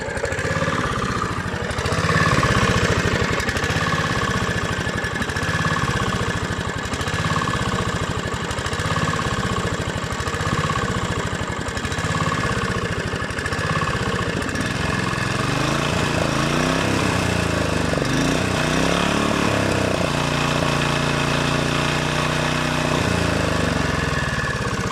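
A rebuilt Honda GV150 small engine runs steadily and loud, its rapid firing pulses close by, shifting to a rougher, lower chug near the end.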